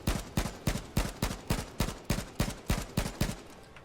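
Rapid AK-47 fire in the game H1Z1, about a dozen sharp, evenly spaced shots in a steady rhythm, each with a short reverberant tail, close and loud with no talking.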